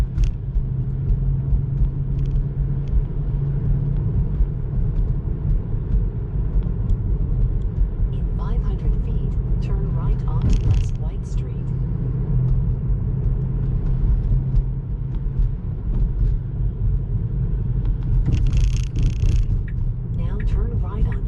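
Heavy truck towing a load in Clinton, Illinois, heard from a passing car as a loud, continuous low engine rumble that holds steady throughout, with faint talk underneath.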